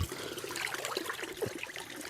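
A jungle stream of drinkable water trickles and gurgles steadily at close range, a soft continuous wash of flowing water with no voices.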